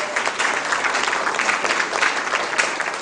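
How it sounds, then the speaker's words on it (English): Audience applause at an Odisha award event, a steady dense clapping from a large crowd that holds at an even level from start to finish with no voices standing out. "Yes, and the big round of applause."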